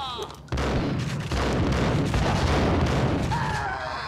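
Rapid loud gunfire fills a jump-shot move in the Max Payne game on PS2, a dense continuous burst lasting a few seconds, with a brief voice sound at the end.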